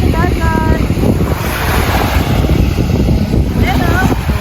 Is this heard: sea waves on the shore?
yes